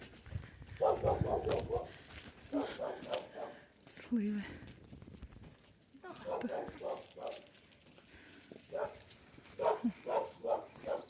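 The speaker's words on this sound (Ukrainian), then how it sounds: "Собаки" Repeated bursts of dog barking in clusters, fairly close, with people talking quietly in between and over it.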